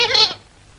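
Goats and cattle led off to their owner give a short, loud bleat lasting about a third of a second, trailing into quiet, with no talking.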